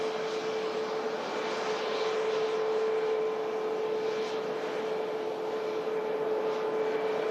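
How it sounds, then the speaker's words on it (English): A Boeing 737 MAX airliner taxiing at Manchester Airport, heard as a steady, continuous engine hum at moderate distance with no talk. "E737 Max taxiing past us here as the sun blesses us with its warmth"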